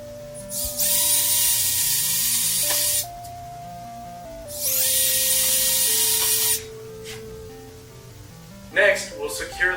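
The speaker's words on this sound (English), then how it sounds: "Next, we'll pre-drill the hole for the bracket." Power drill pre-drilling a hole in a wall for an oven anti-tip bracket. Two sustained bursts of whirring drilling with a steady motor whine that shifts pitch, then brief clattering at the end.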